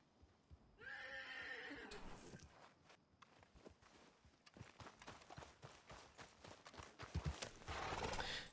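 A horse in the video game Red Dead Redemption 2 whinnies loudly near the start, then hoofbeats clip-clop along steadily with scattered clatter, ending in a louder burst of movement.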